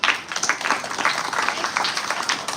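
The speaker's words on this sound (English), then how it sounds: "Clap for yourself." Students in a school science activity clapping for themselves after answering, a dense, continuous patter of many hands at moderate loudness, with a faint murmur mixed in.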